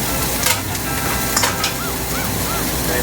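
Chiles sauté in a hot pan for a chile relleno sauce, a steady, loud, crackling sizzle that carries on throughout with occasional stirring scrapes.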